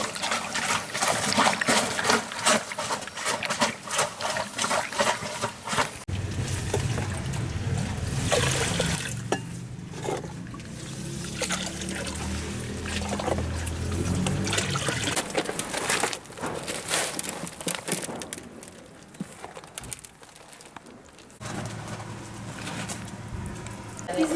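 Grape juice flows from a grape press machine in a continuous liquid trickle and splash that mixes with mechanical rumble and shifting background noise throughout.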